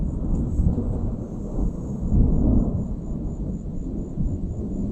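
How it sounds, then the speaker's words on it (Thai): Low rumbling thunder rolls continuously over a summer forest campsite in Thailand, heavy and deep, with a faint thin tone running high above the rumble throughout. "เพื่อนๆได้ ยินไหมเสียงฟ้าร้องนะครับ"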